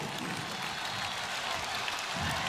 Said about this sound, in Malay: Tepuk tangan untuk Sepah